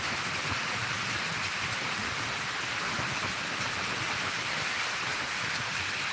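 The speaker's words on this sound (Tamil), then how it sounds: "நல்ல மழை வருது" Heavy rain falls outside a rented house, a dense, steady hiss of drops hitting surfaces. It stays loud and even from start to finish with no speech.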